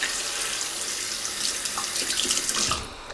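Tap water runs steadily into a sink while a quad-edge safety razor is rinsed under it, a continuous close splashing hiss that shifts slightly as the blade passes through the stream.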